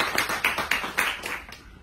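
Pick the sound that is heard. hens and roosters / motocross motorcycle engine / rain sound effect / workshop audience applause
workshop audience applause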